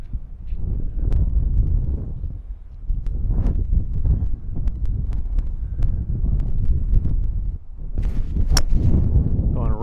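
Gusty wind on the first tee of a links golf course at Pacific Dunes buffets the microphone in a continuous low roar while people talk.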